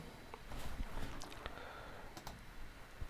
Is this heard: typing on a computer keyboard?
yes